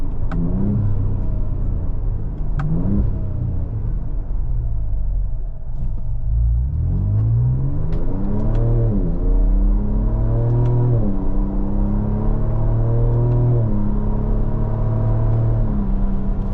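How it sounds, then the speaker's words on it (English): 2025 Ford Ranger Raptor engine revving through paddle-shifted upshifts in its 10-speed automatic, a loud close rumbling drone that climbs in pitch, dips at each shift, then rises again several times. "Nice crisp shifts out of this 10-speed auto on the way up."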